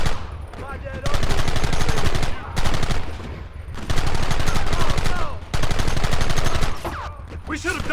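Rapid gunfire in the Western video game Red Dead Redemption, loud sustained bursts of automatic and repeated shots in several long volleys with brief pauses between them, under game music and ambience.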